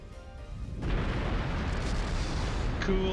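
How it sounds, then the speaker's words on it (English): An explosion erupts behind the party in the video game Trails through Daybreak: a sudden, heavy roar swells in and keeps rumbling at full strength, with a faint high tone near the end. "It's time to jump while there's an explosion in our back."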